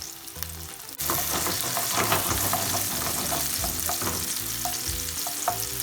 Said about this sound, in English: What we wanna do is infuse the oil with the onion and the garlic.